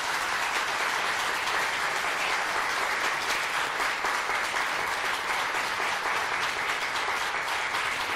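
A studio audience on a Turkish daytime talk show applauds loudly and steadily, a dense, even wash of clapping that holds for the whole stretch with no voices over it.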